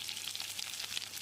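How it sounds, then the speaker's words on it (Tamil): Mustard seeds, urad and chana dal, curry leaves and chopped green chili fry in hot oil, giving a dense, steady sizzle with small crackling pops, close and without talk. "கடுகு பொரிஞ்சிருச்சு."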